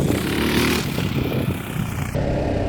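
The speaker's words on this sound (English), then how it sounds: "I'm going along and I just pop the front wheel up a little bit." A motorcycle engine runs loud and steady as a rider practises wheelies on a green lane, in first gear, the revs rising and falling slightly while wind noise rushes over the microphone throughout.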